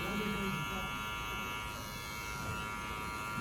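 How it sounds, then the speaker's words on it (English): Electric hair clipper buzzing steadily while cutting hair during a drop fade haircut, a continuous close hum with steady tonal bands and no pauses. "if you don't hear it cutting, we're gonna go back over that again with the clipper a little more closed"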